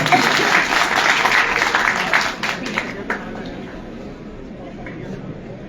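A crowd applauds at a protest rally outside the civil secretariat, with loud sustained clapping that fades into quieter scattered claps.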